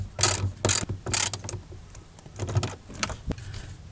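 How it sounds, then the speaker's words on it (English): Ratcheting clicks from a hand tool tightening bolts on the rear subwoofer cover of a 2004 Toyota Avalon, several short close bursts separated by brief pauses. "just get all these bolts tightened down"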